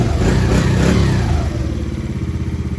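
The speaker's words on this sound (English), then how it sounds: "Now it runs and idles. Perfect. Great throttle response." A Yamaha Raptor 90 ATV engine running after a carburetor replacement, loud and close, rising in a rev and then settling back toward a rhythmic, pulsing idle.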